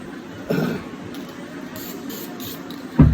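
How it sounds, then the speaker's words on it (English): Short bursts of hissing spray from an aerosol can, a couple of brief sprays separated by pauses, close by, with faint handling noises. "Just use a little bit, you know, of spray paint."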